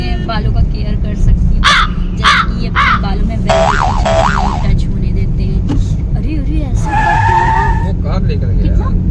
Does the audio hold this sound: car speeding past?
yes